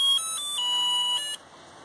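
A musical dustbin's buzzer plays a bright electronic beeping tune while the bin is tilted, loud and close, in short repeated tonal bursts that stop abruptly near the end.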